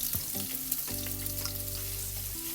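Ginger and garlic sautéing in a wok for chicken in black bean sauce, a bright continuous sizzle up close with a low hum running underneath and nobody talking.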